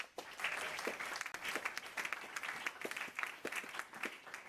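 A church congregation applauding in a steady, moderately loud wave of overlapping claps that persists throughout, with no speech over it.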